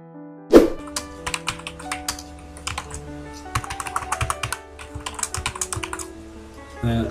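Keys on a computer keyboard clatter in irregular runs of close, crisp taps. A heavier thunk comes near the start and another at the end.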